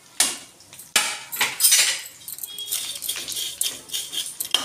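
Vermicelli (sevai) frying in a pan for sheer khurma while being stirred, with close, sharp clinks and scrapes of the spoon against the pan in uneven bursts, and no talking.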